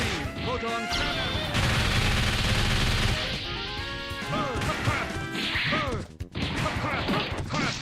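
Heavy video game proton cannon fire hammers out in rattling, machine-gun-like volleys and crashing hits, loud and near, with occasional speech underneath.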